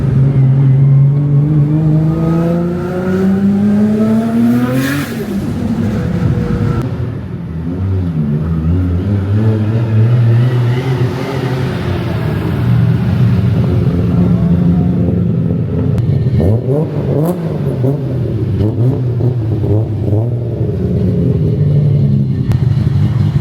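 A just-built car nicknamed Wubaki pulls out of a showroom, its engine loud and close as it revs through rising gear sweeps, dips briefly, then climbs again in repeated surges with no talking.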